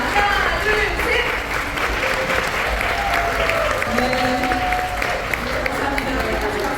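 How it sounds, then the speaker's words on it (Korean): Audience applause fills a room at a book launch celebrating a hundredth published book, steady clapping from a crowd during the cake cutting, with voices and cheers mixed in throughout. "큰 박수로 같이 보내주세요."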